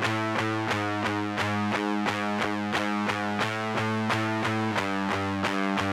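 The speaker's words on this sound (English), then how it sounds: "I love the sound of a DI fuzz." A DI fuzz guitar, heavily distorted through a JHS Colour Box in a recording session, plays a steady, buzzy run of evenly repeated notes, loud and alone for the whole stretch.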